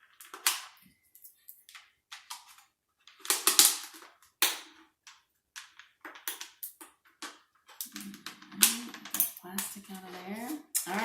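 A plastic bottle being cut with scissors for a bird feeder craft, giving sharp irregular snips, clicks and crinkling plastic close by while someone talks in between.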